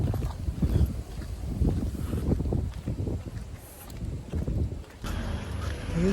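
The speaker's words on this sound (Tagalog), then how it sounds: "Mahangin pala." Wind gusts at an outdoor hilltop spot, rumbling and buffeting the microphone in uneven bursts, fairly loud and close throughout with no one talking.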